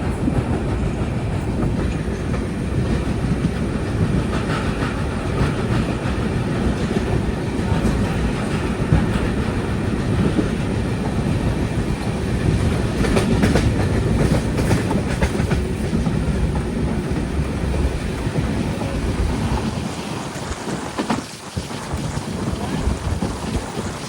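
Aboard the Matsyagandha Express sleeper train running through rain, a loud, unbroken rumble of wheels and carriages goes on with steady wind rush and faint rhythmic clatter, dipping briefly near the end.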